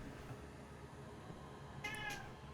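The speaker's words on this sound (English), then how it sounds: "and he's meowing at me" A wet cat that has just come in from outside gives a couple of short, faint meows over a steady background hum.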